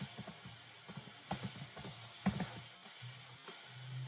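Quick, light clicks from a computer keyboard come in uneven bursts with short pauses, heard close but faint in a quiet room.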